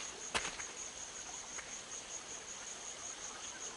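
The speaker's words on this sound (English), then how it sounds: "And here come the flies." Insect buzzing from carrion-drawn flies in the adventure game Secret Files 2: Puritas Cordis, a steady high-pitched drone with a faint chirping edge throughout, broken by a brief click near the start.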